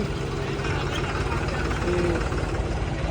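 A 3630 tractor's engine runs at a steady idle-like rumble throughout, with people talking over it on the road.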